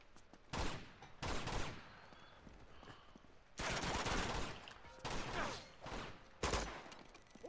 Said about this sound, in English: This is a lot of shooting.